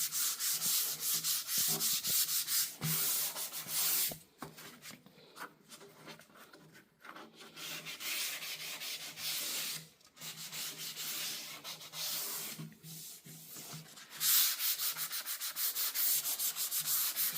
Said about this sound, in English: Cutting it back, light sanding back, remove any dust particles and or getting the finish ready for the next coat.